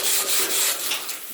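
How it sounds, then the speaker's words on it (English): A manual brush scrubs hard in a snug gap on a leaking CNC plasma table, giving steady, close, loud rasping strokes that ease off slightly near the end. "Now to get in between here, just using a manual brush."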